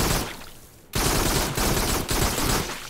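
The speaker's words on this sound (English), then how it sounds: "I need to pulse shoot." Rapid gunfire from a weapon shot in the VR shooter game Farpoint, loud and dense, dipping briefly near the start and then resuming in sustained bursts with short breaks, no voices.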